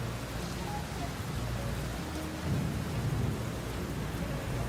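Heavy rain pours steadily outside Seoul Station as a dense, even hiss close at hand, swelling slightly louder partway through, with no voices.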